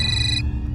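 A telephone rings in a tense domestic crime drama scene, a steady electronic ring tone sounding alone for under a second before cutting off abruptly.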